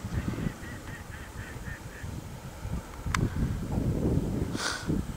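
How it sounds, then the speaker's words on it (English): Ducks quack in a rapid run of short calls over open-air wind noise at a Dutch bird-watching spot, then give a few scattered honks. "The ducks are ducking."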